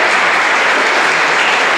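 Loud, sustained applause from a church congregation during a sermon, dense steady clapping throughout with no voices standing out.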